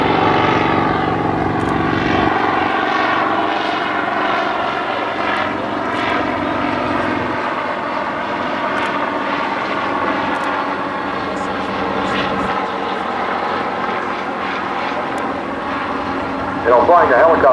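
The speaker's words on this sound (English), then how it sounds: "It's definitely a radio engine powering the aircraft." An aircraft engine drones at an airshow during a flyby, a steady tonal hum holding at moderate loudness while an announcer talks over it.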